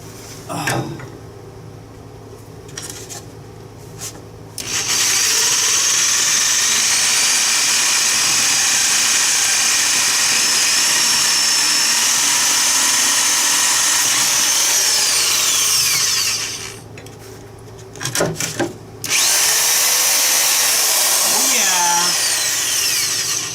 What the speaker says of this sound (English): I just got to drill through this now.